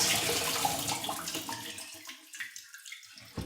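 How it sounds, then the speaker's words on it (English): Water drains and pours out of a salad spinner full of kale, a loud continuous splashing rush that tapers off into scattered drips and trickles toward the end. "I'm gonna drain it."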